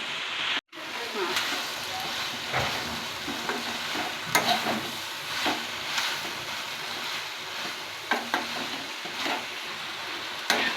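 Five Byadagi chillies dry-roasting over a high flame in a pan, stirred with a steady scraping and soft rustling hiss, close and continuous after a brief cut near the start, occasional clicks of the utensil on the pan.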